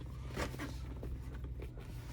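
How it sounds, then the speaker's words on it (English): A zipper being pulled open on the storage cover of a windshield sun shade umbrella for a 2016-2026 Toyota Tacoma, giving a close, raspy run of zip bursts over about two seconds. "You guys can see there's a zipper here. You can go ahead and unzip."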